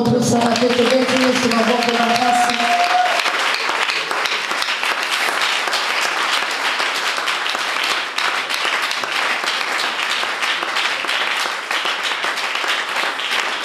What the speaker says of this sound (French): L'apôtre Chamri, il avance et on acclame.